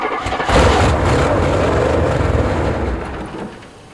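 A 1977 GMC truck with a 400 engine, sitting unused for seven years, cranks briefly and fires up into a loud, rough, close idle that rumbles steadily before easing down, with no talking over it.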